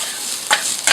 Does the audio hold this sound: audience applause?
no